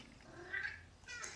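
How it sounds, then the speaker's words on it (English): A house cat meowing loudly indoors, a couple of short nasal cries close to the microphone in a quiet room. "My cat is very loud during this reading."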